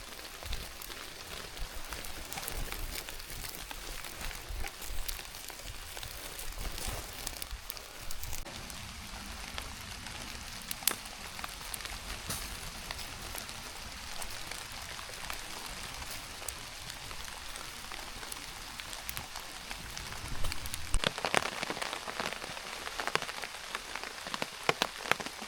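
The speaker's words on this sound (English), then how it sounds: "this rain is relentless at the moment" Heavy, relentless rain pours down outdoors onto surfaces and military gear, a dense, constant hiss of drops with scattered louder spatters throughout, steady and without speech.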